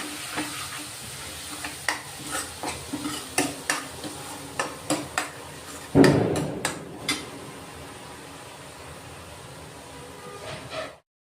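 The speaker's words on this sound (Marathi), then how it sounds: "आता तेल सुटेपर्यंत हे वाटण आहे ना आपण चांगलं परतून घेऊ" A spatula scrapes and stirs a ground masala paste sizzling in hot oil for a fish curry, with regular clicking strokes against the pan and one louder splattering burst midway.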